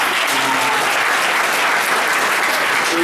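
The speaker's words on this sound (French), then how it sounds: "Acclamez très fort pour." A conference audience applauds loudly and steadily, with dense continuous clapping filling the whole stretch and no voices over it.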